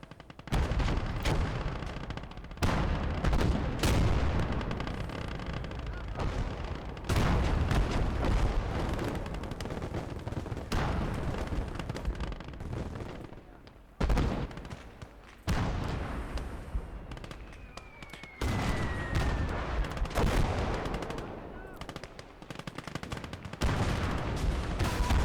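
The World War II game Call To Arms: Gates Of Hell sounds with dense, continuous gunfire, machine-gun bursts and heavy rocket and artillery blasts, loud and layered throughout, with one rising whistle partway through.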